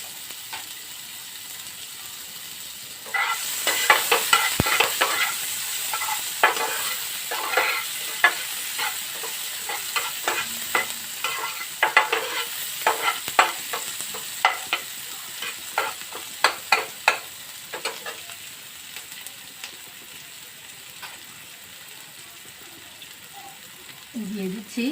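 Chopped onion frying in a pan for egg curry, stirred with repeated sharp scraping strokes of a spatula over a constant sizzle, the stirring close and rhythmic before easing off near the end.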